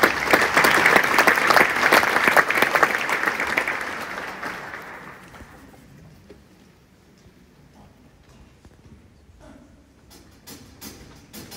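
An audience at a jazz concert claps loudly and densely, then the applause thins out and fades over several seconds into quiet, leaving a few scattered late claps near the end.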